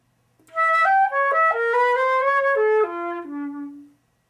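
Solo flute plays a short melodic phrase from Honegger's Danse de la Chèvre using an A natural, stepping through sustained notes in the middle register and settling on a long, fading low note, close and clear with no talking.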